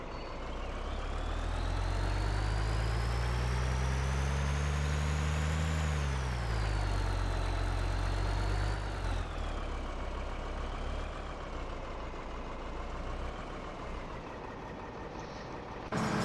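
A truck engine runs loudly in the Farming Simulator 13 video game, a steady low drone that shifts pitch as it revs slightly and then settles, continuous and close with no talk.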